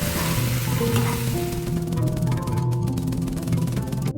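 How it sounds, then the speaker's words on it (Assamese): Chopped potatoes fry and are stirred in a pan for an Assamese black pepper chicken dish, giving a loud, steady close-up sizzle with scraping spoon strokes throughout and no talking. "আৰু মই এতিয়া ইয়াতে দি দিম কাটি লোৱা আলু"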